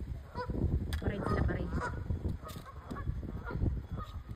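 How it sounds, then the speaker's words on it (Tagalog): A flock of parading ducks gives repeated honking, nasal calls in overlapping bursts, fairly close and moderately loud, with faint voices mixed in. "Nagpaparade ang mga dito, ang mga duck."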